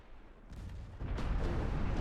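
Naval gunfire in the Ultimate Admiral Dreadnoughts warship game: two deep, heavy booms about half a second apart, followed by a sustained rumbling roar.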